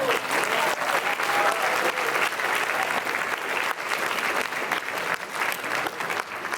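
An audience gives a sustained round of applause at a Bay Area community stage production, dense steady clapping filling the room at even loudness throughout, with a few faint voices mixed in.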